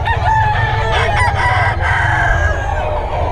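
A rooster at a poultry spot in Bocaue crows loudly and close, one long drawn-out call filling the moment, with other fowl faintly audible behind it.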